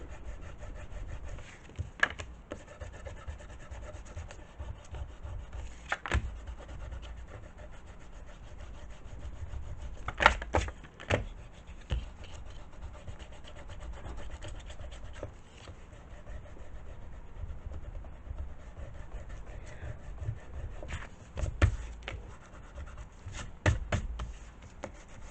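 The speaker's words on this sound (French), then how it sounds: "Maintenant, je vais gommer un petit peu tout ça" Sanding down a simple handmade gift box, its surface rubbed in an irregular scratchy rhythm with occasional sharper knocks, close and fairly quiet, with no talk.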